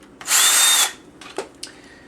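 A power drill bores a small hole big enough to hold a chopstick, a loud high whirring burst lasting just over half a second, then a few light knocks and scrapes up close.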